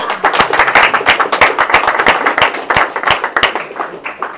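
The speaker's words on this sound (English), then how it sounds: "So I want all of us to stand up and give a big round of applause to Ashok and" A standing presentation audience claps loudly and close by, individual hand claps distinct and rapid in an uneven rhythm, sustained throughout with no talk over it.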